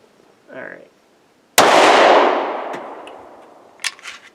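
A single loud, sharp Luger P08 pistol shot cracks out, then rings down in a long fading decay, with brief voice sounds just before and after.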